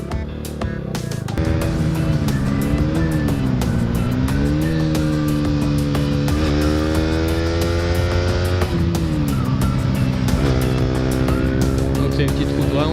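A KTM Duke 125 motorcycle riding along a winding country road, its engine droning steadily and loud throughout with pitch rising and falling as the rider shifts and accelerates.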